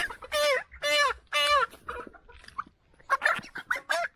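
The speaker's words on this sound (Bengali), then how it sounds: "ওই ঘরে এই দুটা মুরগি বের হয়েছে" Two poultry hens that have got out of their coop cluck loudly and close by in repeated bursts, with a short quieter gap in the middle.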